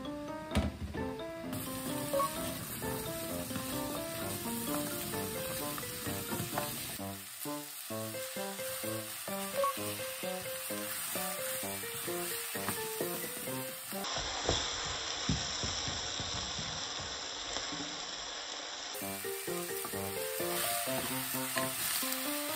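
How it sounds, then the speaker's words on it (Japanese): Ingredients sizzle and fry in a pot as they are stir-fried for a home-style Japanese dish, with steady close crackling and occasional stirring scrapes throughout, under background music. "鍋に具材を入れて炒めていきましょう。"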